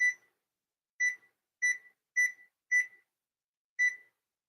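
A kitchen timer beeps six times at uneven intervals during pumpkin pie baking, each tone short, sharp and high, separated by clean silence.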